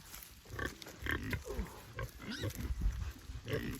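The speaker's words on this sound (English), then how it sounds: "Let's go over and look at the pigs." Pigs on a homestead grunt and snort repeatedly at close range, a busy run of low, rough grunts with some higher squeaky calls overlapping throughout.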